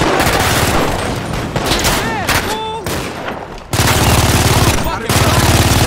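Rapid video game gunfire from GTA 5, dense automatic bursts and overlapping shots close and loud, with a short lull before heavy firing resumes, while voices talk over the action.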